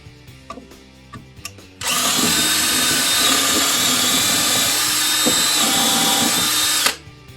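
A DeWALT DCD734C2 14.4 V cordless drill-driver bores with an 8 mm bit, giving a loud, steady high-pitched whine for about five seconds. It starts abruptly and then cuts off cleanly, after faint handling clicks.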